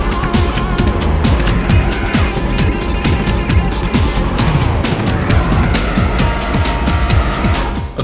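Lamborghini Diablo VT racing in the video game Need for Speed SE, a loud continuous engine roar with tires squealing and skidding through corners, close and dense throughout.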